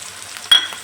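Onion, tomato, curry leaves and coriander frying in a pan for Bengal gram dal kulambu, with a brief close scrape of stirring over a steady soft sizzle.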